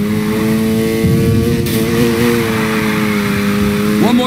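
Steady, loud car engine held at high revs during a drift in the Need for Speed Heat racing game, a sustained droning whine with slight pitch wobble and a brief rising swell near the end.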